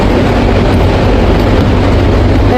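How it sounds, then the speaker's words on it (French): A Paris RER A commuter train in a station gives a loud, steady rumble and roar close by, with the dense low noise of its wheels and motors and no voices. "on vous montre le RER vite fait"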